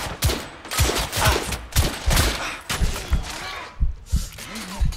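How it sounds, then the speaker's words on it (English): Rapid video game gunfire in The Order: 1886 on PS5, a dense run of loud close shots in an uneven rhythm that thins out toward the end, with no clear speech. "I'm pinned down! Get to your cover, Knight! He needs cover fire!"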